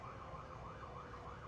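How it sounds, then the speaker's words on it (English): Emergency vehicle sirens wail outside, a continuous rising and falling tone heard faintly from a distance with steady road noise underneath. "There's so many sirens."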